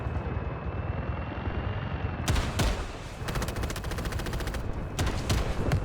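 A 7.62 gun fired from a helicopter in the video game Delta Force, rapid machine-gun bursts breaking in over a steady rotor drone, one long stuttering burst and shorter ones, loud and close with no talk.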